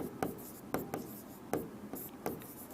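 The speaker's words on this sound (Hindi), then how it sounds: "P बराबर मैं लिख रहा हूं आवेश" Chalk or marker taps and scratches on a board during a Class 12 physics lesson on electric dipoles, sounding as several quick close strokes in an uneven rhythm with no voice over them.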